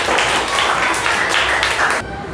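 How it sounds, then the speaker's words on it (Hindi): Schoolchildren in a classroom give a loud round of applause, a dense burst of rapid clapping that stops abruptly after about two seconds. "सपना कुमारी के लिए एक जोरदार ताली होना चाहिए।"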